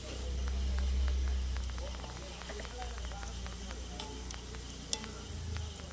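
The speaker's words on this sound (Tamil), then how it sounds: "முறுக்கு வந்து நல்லா பொரிஞ்சிடுது." Murukku deep-fries in hot oil in a village kitchen, a steady soft sizzle and bubbling with faint crackles and occasional stirring taps, heard close but quietly.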